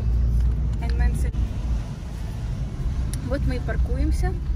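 A car rolls off a ferry on the Rhine and into a parking spot, its low steady engine rumble filling the scene while voices chatter nearby toward the end.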